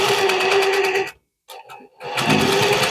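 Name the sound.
sewing machine stitching cord with presser foot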